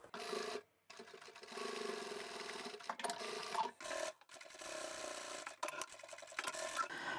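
A sewing machine stitches two thick fabric swatch pieces together, running in steady continuous bursts with a few short pauses, close and moderately loud with no talking.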